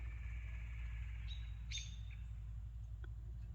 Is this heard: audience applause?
no